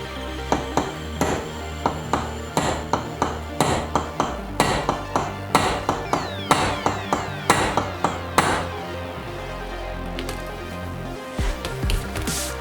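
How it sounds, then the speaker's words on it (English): A brass shift fork pad peg from a Mazdaspeed 3 transmission is hammered against the flat of a vise: a quick series of sharp metallic strikes at a steady rhythm, close and loud, then a pause and a few final taps. "I'm just gonna use this flat section on the vise here to just kind of create a little dimple in the center here"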